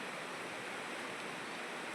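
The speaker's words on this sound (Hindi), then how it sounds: "अभी इतनी भयंकर बारिश हो रही है" Heavy monsoon rain pours down in a steady, dense, even hiss that holds without a break, faint and somewhat distant, with no voices.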